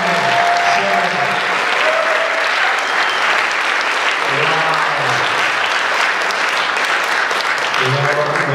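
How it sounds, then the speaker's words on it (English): A concert audience at a women's charity event applauds performers with loud, steady, sustained clapping and crowd noise, while a voice speaks over it at moments. "would you guys give him another applause?"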